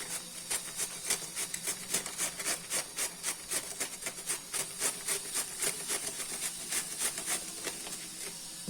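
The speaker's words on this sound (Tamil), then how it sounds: "அதில் வந்து நம்ம இந்த கோஸை வந்து இந்த மாதிரி துருவிட்டோம்னா நல்லா சன்னமாக கிடைக்கும்" Cabbage grated into fine shreds on a hand slicer-grater while making cabbage bonda, a steady run of quick rasping strokes, close and fairly quiet, with no talking.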